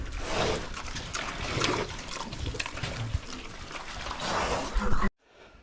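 Water pours and trickles steadily for a cow in a farmyard, a continuous splashing stream close by that stops abruptly near the end.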